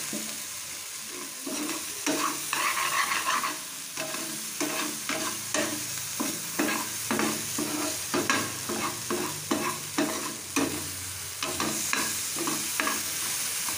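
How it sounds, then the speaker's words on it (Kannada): Capsicum curry ingredients frying in a pan, a soft steady sizzle broken by repeated scraping strokes of a spatula in a regular stirring rhythm, close by and without speech. "ಚೆನ್ನಾಗಿ ಫ್ರೈ ಮಾಡಿ. ಒಂದು 2 ನಿಮಿಷ ಫ್ರೈ ಮಾಡಿಕೊಂಡ್ರೆ ಸಾಕು."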